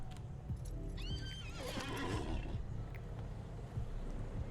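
A video game horse mount, the Valiant Steed of the Dunedain, gives a loud whinnying neigh over a steady outdoor ambience, with soft hoof clip-clops before and after.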